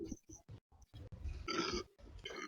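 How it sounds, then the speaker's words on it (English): A single burp breaks out among casual talk during a game of Cards Against Humanity, a short, close, fairly loud eructation in the middle of the voices. "Burp."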